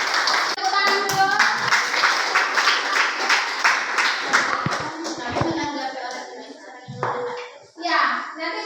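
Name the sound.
audience applause, clapping hands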